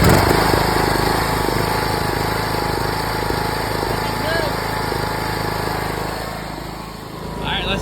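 A Husqvarna R120S articulated riding mower's small engine runs with a steady, loud drone and a constant low hum throughout, dipping slightly near the end, with no speech over it.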